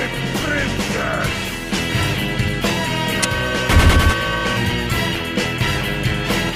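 The Heavy's machine gun from Team Fortress 2 fires in loud, sustained rattling bursts within a dense, busy game soundtrack.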